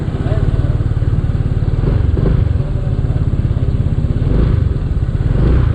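A Euro Motor Falcon 180i motorcycle on a test ride, its engine pulsing in a loud, close, rapid rumble with slight rises in pitch, while a voice talks over it at times.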